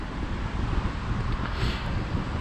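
Wind buffeting an unshielded camera microphone on a windy night, a loud, steady low rumble with gusty swells and no speech.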